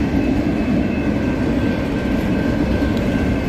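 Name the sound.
Amtrak Coast Starlight passenger train passing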